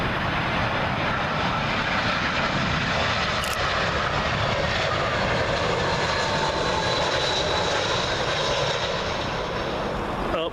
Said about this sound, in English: Up next, Air Serbia with their A319 from Belgrade.